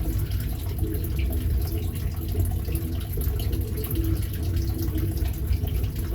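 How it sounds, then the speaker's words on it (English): A turtle tank filter siphons water back into the tank, making a steady, continuous trickle and splash at close range with no break and no talking. "Just the water siphoning through the filter into the tank."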